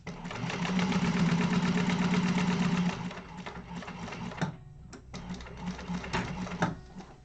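A sewing machine runs a fast, steady burst while topstitching a crossbody bag, then slows into shorter, uneven runs with clicks, heard up close.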